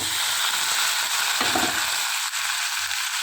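Garlic cloves and spices crackle in hot tempering oil for a yogurt-based curry, a close, steady sizzling hiss with a brief stir near the middle.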